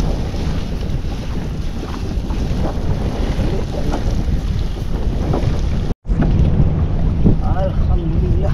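Strong wind buffets the microphone on a small fishing boat netting pomfret at sea, a loud continuous roar with water and engine rumble beneath, briefly dropping out for a split second before resuming.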